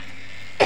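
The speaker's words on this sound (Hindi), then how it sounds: "हमें ना ठंडा से बहुत खांसी आ रही है इस समय" A single short cough from someone with a cold breaks out near the end, following a quiet stretch of room tone.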